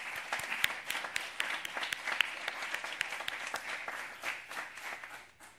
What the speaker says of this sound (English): I think we can still clap for the project